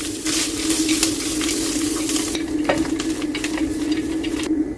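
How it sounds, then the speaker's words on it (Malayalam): Grated coconut roasts in a hot pan with a steady close sizzle, while a spoon scrapes and stirs it in a continuous, even rhythm. "കപ്പ് തേങ്ങ ചിരകിയതാണ് ഇട്ട് കൊടുക്കുന്നത്. ഇനി ഇതൊന്ന് നന്നായിട്ട് മൂപ്പിച്ചെടുക്കാം."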